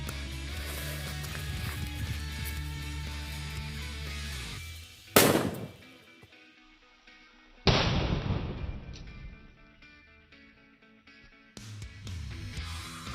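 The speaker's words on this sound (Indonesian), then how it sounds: "ini dia berikutnya kita nyalakan petasan Colorful Thunder, gambarnya si kucing hitam" Colorful Thunder firecracker with a black cat picture exploding in two sharp, loud blasts a few seconds apart, each followed by a fading rattle, amid continuous crackling and hissing noise.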